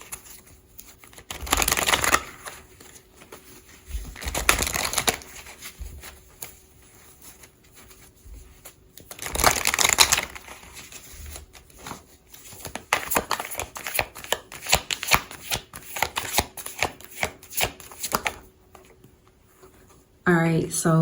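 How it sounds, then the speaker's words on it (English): A deck of oracle cards is shuffled in several bursts of close, papery riffling and flapping, with quieter shuffling and rustling in between and a short rise in sound at the end. "let's get some cards from my deck."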